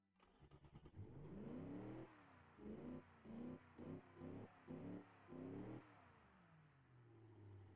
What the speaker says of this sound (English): You can listen to your engine